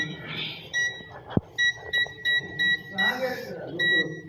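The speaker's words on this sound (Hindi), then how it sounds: "सबके साथ बीप की साउंड आनी चाहिए।" A continuity tester beeps as its probe moves across the commutator segments of a Swift Dzire starter motor, giving a string of short, evenly spaced electronic beeps close to the microphone over light handling noise.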